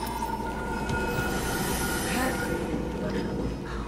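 A train rolls past in Cyberpunk 2077: Phantom Liberty, a steady loud rumble with metallic wheel squeal and rail clatter sustained throughout, close by and filling the scene.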